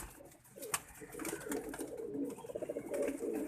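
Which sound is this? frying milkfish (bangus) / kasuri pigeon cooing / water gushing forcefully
kasuri pigeon cooing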